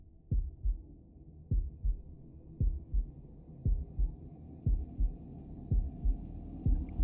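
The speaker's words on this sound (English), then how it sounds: "Got a heart beating." A video game heartbeat effect from Shadow of the Tomb Raider on Xbox One X: deep, muffled double thumps repeating at a steady pace of about one per second, heard alone and prominent.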